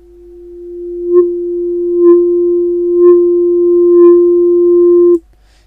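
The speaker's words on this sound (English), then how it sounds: "I'm going to play with the frequency shifter here, and let's see what happened." Steady resonant sine-like tone from a frequency shifter plugin, held for about five seconds with four gentle swells in loudness before cutting off sharply, alone.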